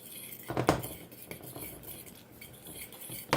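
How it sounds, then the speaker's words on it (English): A utensil stirs quinoa and water in a cooking pot, giving a few soft scraping and clinking strokes against the metal, close and quiet with no talk. "Once that goes in, stir it up."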